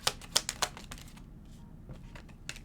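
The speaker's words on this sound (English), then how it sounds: "So I'm going to pull out some shadow cards." Shadow cards are pulled from a stack, giving a quick cluster of sharp, close clicks and flicks, then a pause and a few softer taps.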